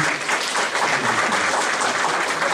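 A crowd at a workers' party general assembly applauds steadily to elect a temporary chair, a dense wash of clapping that holds at even loudness throughout.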